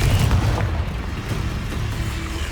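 Confringo spell explosion in the Hogwarts Legacy video game: a heavy, booming burst that rolls into a sustained low rumble for a couple of seconds.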